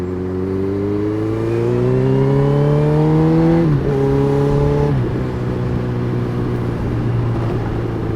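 A Honda CB1000R motorcycle engine accelerates hard on a road ride, its loud, close tone rising steadily, then dipping and climbing again through two quick upshifts.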